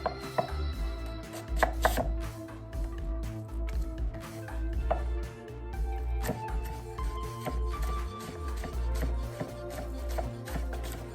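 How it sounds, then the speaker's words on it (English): Knife chopping onion on a cutting board for an old-fashioned meatloaf, a steady run of close, crisp blade taps with short pauses, loud and without talk. "first thing we want to do is we want to go ahead and chop our onion and smash our garlic"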